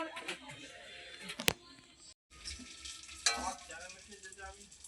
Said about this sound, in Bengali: এই যে মাছ ভাজতেছি আজকে, পার্শে মাছের মতো বাবা মাছ ভাজতেছি টক ফল দিয়ে